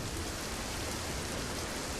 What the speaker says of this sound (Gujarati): બપોરે અચાનક ધોધમાર વરસાદ વરસતા